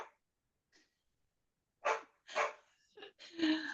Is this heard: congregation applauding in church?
no